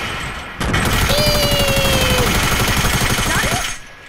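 Video game gunfire: a loud, sustained stream of rapid shots starts abruptly and rattles on for several seconds before cutting off, with faint whistling tones over it.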